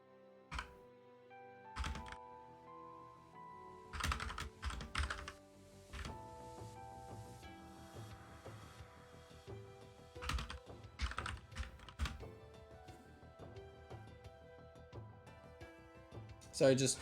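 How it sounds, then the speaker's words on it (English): Clicky computer keyboard typing in Discord, bursts of rapid close keystrokes with pauses between, loud and up front while a voice talks at times. "Sorry about the clickety clock of my keyboard. Just typing in Discord."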